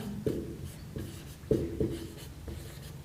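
Chalk or a marker taps and scrapes across a board in short strokes while a maths lesson is taught, with several distinct bursts close by and no talk.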